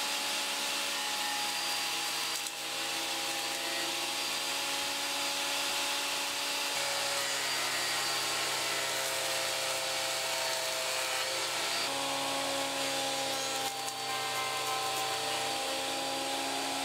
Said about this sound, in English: first job is to get a couple of sides planed on the planer